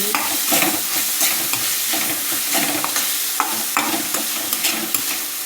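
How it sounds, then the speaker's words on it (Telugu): Egg bhurji frying in a pan: loud, continuous sizzling with repeated scraping stirs of a spatula at an uneven rhythm, close up, with no talking. "బాగా ఫ్రై చేసుకున్నాం దీన్ని."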